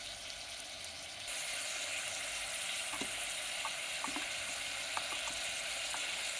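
Mutton fries with beans after tomatoes, salt, chili powder and coriander powder go in, producing a steady close sizzle that swells after a moment, with a few light taps and stirring scrapes and no voices.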